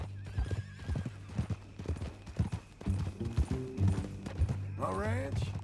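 Hooves clip-clop steadily from a horse in the Western game Red Dead Redemption 2, then a loud, close whinny rises near the end, with speech running under the hoofbeats.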